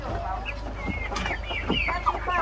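Chickens cluck in a short run of close, uneven calls over a steady low hum, with a few sharper squawks near the end.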